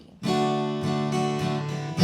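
An acoustic guitar strums the chords of Morning Has Broken in a down, down, up pattern. Bright, full chords ring close and steady, with the rhythmic strokes repeating evenly.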